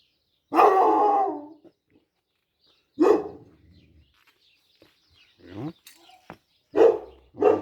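Dog barking at a garden along a Cyprus village nature trail, a few loud close outbursts separated by pauses, with birds calling faintly in between.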